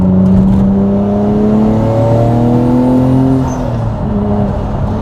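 Paul Walker's former Nissan Skyline R34 GT-R engine revs loudly and close up, its pitch sweeping upward and then easing back in steady, continuous drive.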